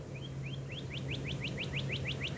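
A bird gives a quick series of about a dozen short, rising chirps at a steady, fast rhythm, clear but modest in volume over a constant low hum.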